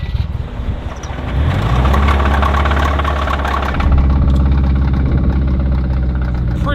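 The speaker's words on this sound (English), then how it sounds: "now the Subaru sounds like this." A damaged Subaru engine idles roughly after hard running on a frozen lake, a loud, close, uneven rumble with knocking that steadies into a continuous throb.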